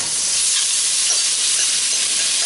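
Shrimp searing in a hot pan, cooked alongside asparagus in a lemon butter sauce: a steady, loud, even sizzle and hiss that holds without a break.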